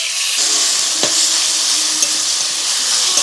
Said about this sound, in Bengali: চিকেনটা আস্তে আস্তে ভাজা হতে থাক